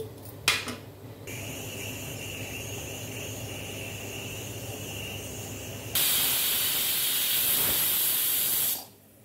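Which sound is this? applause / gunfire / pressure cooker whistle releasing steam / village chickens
pressure cooker whistle releasing steam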